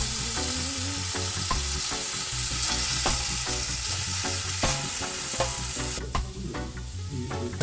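Couscous and green peas are stirred in a pan, a steady scraping and stirring with a soft sizzle running under prominent background music throughout.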